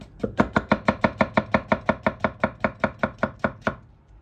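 A 52100 steel gyuto knife slices through a tomato on a board, a quick even run of about fifteen crisp, close chopping taps that stop abruptly, with no talking.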